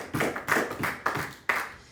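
A church congregation clapping during a sermon, heard as four rhythmic bursts of many hands, moderately loud and a little reverberant.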